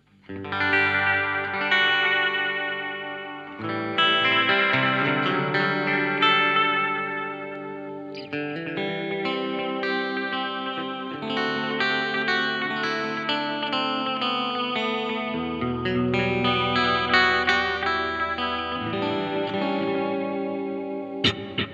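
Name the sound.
guitar through Electro-Harmonix Memory Man delay pedal, modulated repeats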